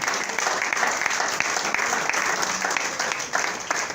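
A church congregation claps during a French-language service, with dense, lively applause filling the room evenly and a few sharper claps standing out throughout.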